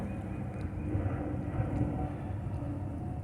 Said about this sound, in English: Still got planes going by.